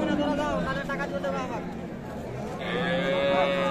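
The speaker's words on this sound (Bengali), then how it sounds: "দর্শক এখানে একটা দারুণ তলাওয়ালা কিন্তু দেশাল গাভি দেখছি আমরা" A Sahiwal dairy cow lows at the Ambari cattle market in Dinajpur, two drawn-out moos, the second louder and closer, over busy market chatter and people talking nearby.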